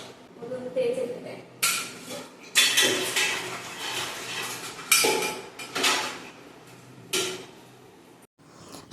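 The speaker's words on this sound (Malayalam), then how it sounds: "പിന്നെ ഒരു ലോഡ് പാത്രങ്ങൾ തേക്കാനുണ്ട്" Dishes, pots and pans being scrubbed and washed after cooking rice, idli and tea, with intermittent clattering and clinking of metal utensils in bursts, close and moderately loud.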